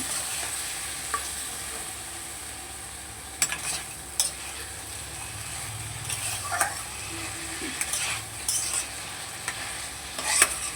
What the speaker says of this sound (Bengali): মশলার বাটিটাতে একটু অল্প করে একটু জল দিয়ে দিলাম এবারে ভালো করে নেড়ে নেব